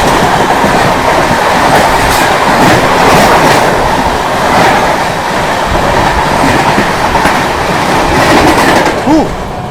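A Betwa Express passenger train rolls past on the adjacent railway track, a steady, loud rumble of wheels and wagons with faint clickety-clack throughout.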